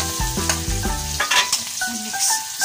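Onions and garlic sautéing in hot oil, a loud close sizzle with stirring scrapes throughout, and no voices.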